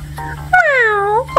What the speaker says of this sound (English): Does Kitty say, meow?